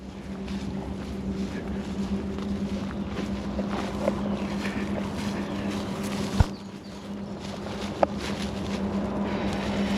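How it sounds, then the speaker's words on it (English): A motorboat passes on a river, a steady droning hum with wind noise buffeting the microphone, interrupted by a couple of sharp knocks. "Comes a boat, I think."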